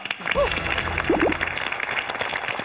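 A studio audience at a televised debate show breaks into applause, a dense wash of clapping that holds steady and fairly loud throughout, with faint voices mixed in.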